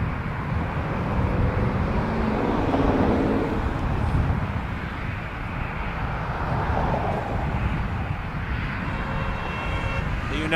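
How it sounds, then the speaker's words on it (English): Bombardier CRJ900 regional jet on approach to land at Toronto Pearson Airport, a loud, continuous broadband engine roar with wind noise and a faint voice underneath. "While this RJ approaches, let's check this crosswind landing on this RJ900 from Saskatoon."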